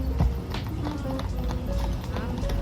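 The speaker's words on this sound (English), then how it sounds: "Horse-drawn carriage right here in Central Park." Horse hooves clip-clop steadily on pavement as a horse-drawn carriage passes through Central Park in New York City at Christmas, rhythmic and fairly close beneath people talking and background city bustle.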